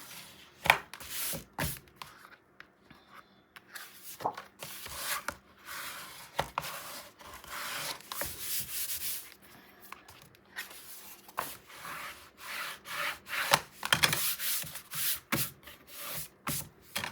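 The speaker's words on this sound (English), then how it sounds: "So now I can burnish." Paper pages of a 9 x 9 mini album are burnished with repeated close, dry rubbing and scraping strokes that come in uneven bursts with short pauses, and no one speaks.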